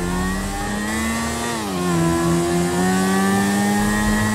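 An RX King motorcycle fitted with a big four-stroke engine in GTA V, revving loud and close with a steady drone that dips, then climbs back and holds.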